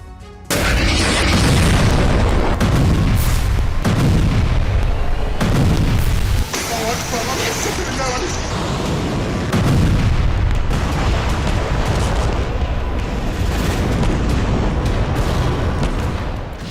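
Heavy blasts from attacks in the Israel–Lebanon conflict between Hezbollah and Israel, a string of loud, deep booms every couple of seconds, each rolling into a long rumbling roar that barely fades before the next.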